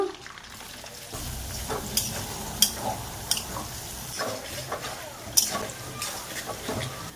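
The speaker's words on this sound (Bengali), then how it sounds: "পেঁয়াজ ভেজে নেব" Onions frying in hot oil in a pan, a steady soft sizzle with scattered crackles and light scraping clinks of a utensil, fairly quiet throughout.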